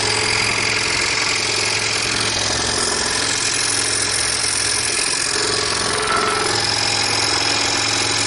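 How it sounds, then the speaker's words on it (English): A Delta 20 inch scroll saw runs continuously with a steady, loud mechanical buzz and rapid rhythmic chatter of the reciprocating blade, close up and without talking. "This scroll saw is heavy enough to hold itself in place, and there's very minimal vibration from it."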